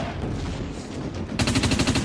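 A heavy machine gun fires in the Dust 514 shooter game, a rapid rhythmic burst of loud, close shots that starts abruptly after a moment of rumbling game ambience.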